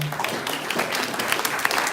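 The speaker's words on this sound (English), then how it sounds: "Round of applause for them." An audience at a Rotary club meeting breaks into a brief, steady round of applause, a dense patter of many hands clapping throughout.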